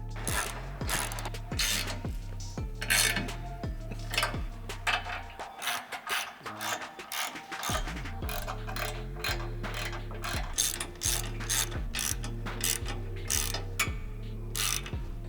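Ratchet wrench clicking rapidly as bolts are tightened on a Cybertruck extreme duty front bumper, close and loud, in bursts of quick clicks with a short pause midway and no talking.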